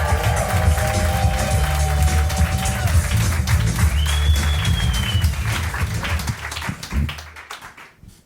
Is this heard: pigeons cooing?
no